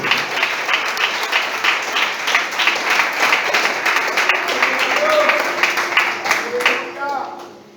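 Sustained applause from a church congregation, dense and steady handclapping that rolls on for several seconds before tapering off, with a voice speaking over it near the end.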